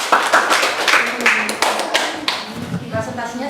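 Audience applause in a classroom presentation session, steady clapping from many hands for a few seconds, with voices talking faintly underneath toward the end.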